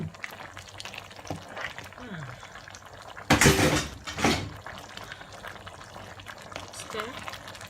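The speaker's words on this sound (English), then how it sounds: "And then stir it." Beans being stirred in a pot with shredded plantain and pepper mix, quiet cooking noise broken by two loud scraping stirs in the middle, with a voice talking faintly in the background.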